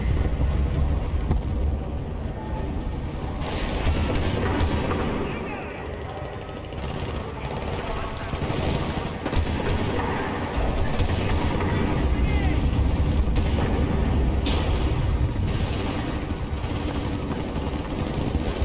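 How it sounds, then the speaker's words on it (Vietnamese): Dense rifle fire and explosions from an M1 Garand in the war video game Battlefield: Bad Company 2, loud repeated shots over a rumbling battle backdrop, with talk over it. "Để mình lấy cây kia ra bắn. Cái này là khẩu M1 ga đăng nha."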